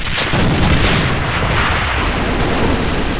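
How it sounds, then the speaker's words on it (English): A grenade blast in the online shooter AvA, a loud, sustained booming rumble that fills the whole stretch with heavy low-end energy and no clear separate hits. "Bросаю гранату!"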